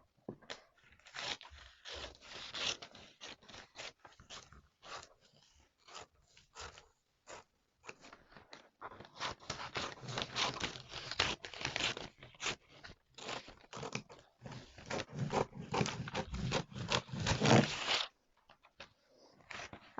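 Scissors cutting through a paper sewing pattern with an added bow or knot, a close series of irregular crisp snips and paper rustles, pausing briefly and then resuming more densely.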